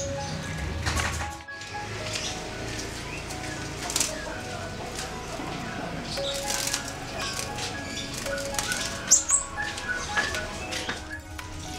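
Blue-crowned hanging parrots, or serindit, being released into an aviary flutter and flap among constant bird calls and coos, with scattered bright chirps and rustles over a busy background.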